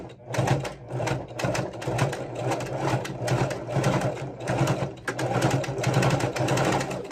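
A sewing machine runs steadily as it hems the bottom of a gathered maxi skirt, its fast rhythmic needle clatter loud and close, pulsing in short bursts with no talk over it.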